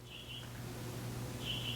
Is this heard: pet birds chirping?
yes